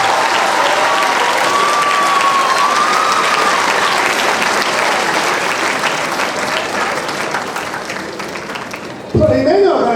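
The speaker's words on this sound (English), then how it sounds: "Please clap, give yourself a round of applause." A large audience of newly admitted university students applauds in a hall, a dense sustained roar of clapping that fades slightly before a voice comes in near the end.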